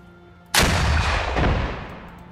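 A single loud gunshot in the Arma 3 video game cracks out sharply and then rolls off in a long echoing tail, with no talking over it.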